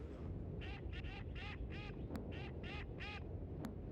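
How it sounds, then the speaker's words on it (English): Ducks quack in the video game Zelda's Adventure, a run of about eight clipped, nasal quacks in quick succession over a constant background hum, with no talking. "Don't you hear the quack, quack, quack?"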